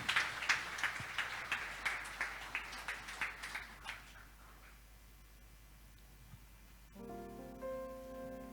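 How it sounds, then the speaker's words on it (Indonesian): Clapping from a church congregation at a Good Friday service, a dense burst of rhythmic applause that fades out over several seconds, followed by quiet and then sustained music. "Kita beri tepuk tangan yang meriah untuk Allah kita"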